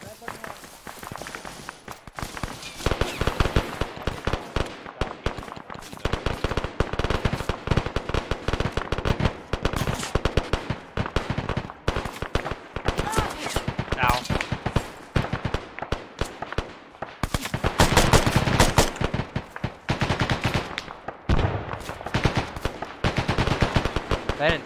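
Gunfire in the military shooter Arma, with rapid bursts and single shots cracking nearly nonstop from close and far, mixed with footsteps and radio-style talk from several players.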